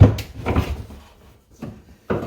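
Small pry bars work a Formica countertop loose from a wooden cabinet, giving a few close, dull wooden creaks and knocks separated by brief quiet pauses.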